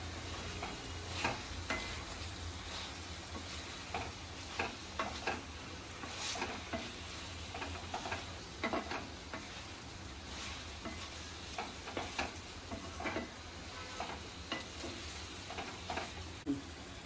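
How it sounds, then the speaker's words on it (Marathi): Chicken masala spices fry in oil with a soft continuous sizzle, punctuated by regular quiet stirring scrapes of a spoon against the pan, close but low in level. "मसाले जरा तेलावर 1 मिनिट परतून घेऊया."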